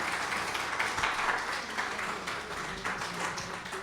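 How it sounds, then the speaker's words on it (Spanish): Audience applause at a cultural event, a steady wash of many hands clapping at moderate distance, dense and continuous without voices over it. "Pido un fuerte aplauso para Pablo Solón."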